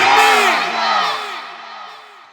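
A large crowd at a religious sermon gathering roars a takbir chant in unison in reply to a call, one loud, sustained collective shout that swells twice and then fades.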